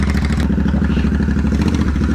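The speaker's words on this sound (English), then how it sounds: "We took out the silencer pipe. That's the reason why it sounds so big." A motorcycle engine with its silencer pipe removed runs loud and close, giving a deep, rapid, uneven pulsing putter that continues throughout.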